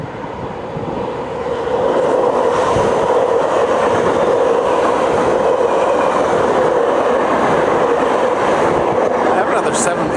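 A train passes close by with a loud, steady rumble and rail clatter that holds throughout, swelling slightly after the start, with faint squealing near the end.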